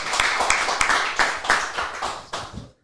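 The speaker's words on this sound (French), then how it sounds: "Walid, on peut l'applaudir." A few people clap briefly for a guest, a short burst of close, uneven handclaps that stops abruptly.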